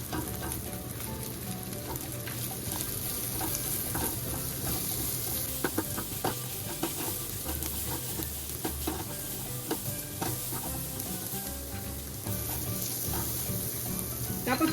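Chopped garlic and onion frying in a pan, a steady close sizzle with stirring scrapes and clatter running throughout, no talking.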